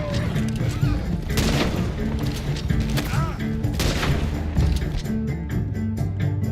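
Gunfire cracks around a camp in Red Dead Redemption 2: loud, close shots come in scattered bursts, then a quick rapid volley of pops near the end.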